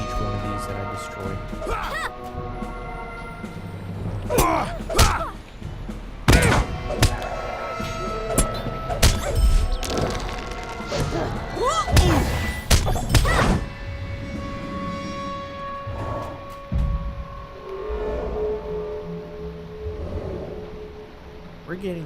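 Objects are smashed in the Lord of the Rings Online video game, producing a series of loud crashing, thudding impacts at irregular intervals, some close together, over a low ambient game background.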